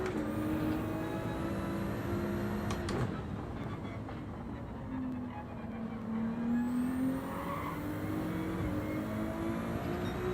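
A race car in Gran Turismo 7 drives on, its engine note shifting and climbing through the gears with a steady, fairly faint whine and tire noise, with no voices.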